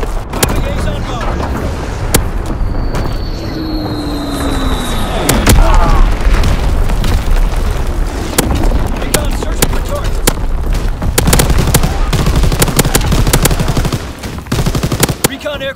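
Artillery and bombing explosions in the video game Call of Duty: heavy booms and rapid gunfire rattle continuously, with a whistling incoming shell early on, loud and dense throughout, while radio-style voices speak over the battle.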